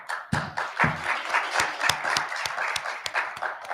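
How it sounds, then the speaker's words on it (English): An audience at a Black history symposium applauds, a continuous round of clapping with sharp individual claps standing out close by, fairly loud and unbroken. "I paid all those people out there to applaud"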